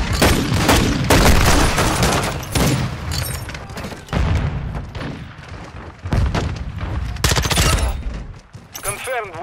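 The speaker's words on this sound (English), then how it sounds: "Decoy grenade!" Decoy grenade in Call of Duty: Modern Warfare II sends out loud, dense bursts of fake gunfire and thudding booms that come and go in waves over game noise.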